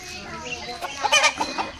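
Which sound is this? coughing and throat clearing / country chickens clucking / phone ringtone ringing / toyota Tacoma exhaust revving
country chickens clucking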